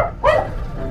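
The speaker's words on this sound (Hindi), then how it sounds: "अरे कुत्ता भौंक रहा है भाई" A dog gives a single short bark from some distance, fairly loud over a steady background rumble.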